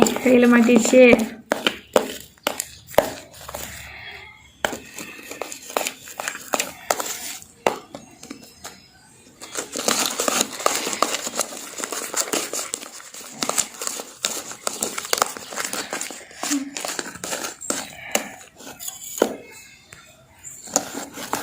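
Slime made from Vim dishwashing liquid, stirred quickly by hand, gives close, irregular squelchy clicks and sticky crackles in uneven bursts, with voices talking over much of it.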